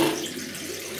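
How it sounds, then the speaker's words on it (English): A razor is rinsed under a running tap during a shave with Gillette gear, a steady close splashing stream of water that fills the short moment with no voices. "And have a quick rinse."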